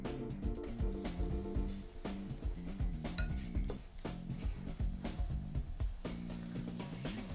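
Onions sizzle in extra virgin olive oil in a pan on a stovetop, a continuous fry under repeated clinks and scrapes of a utensil against the cookware, with no talking.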